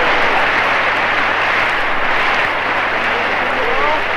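Japanese swimmers clap from the athletes' bench during a Tokyo Olympics medal ceremony, a dense continuous wash of applause heard through an old, noisy recording.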